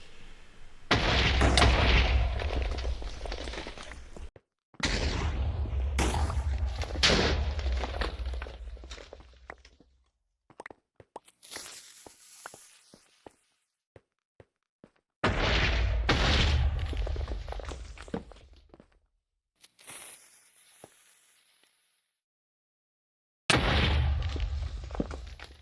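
Minecraft TNT blocks detonate one at a time inside a mountain, each explosion a loud deep boom with a crumbling tail, separated by quiet gaps and scattered clicks of lighting and footsteps.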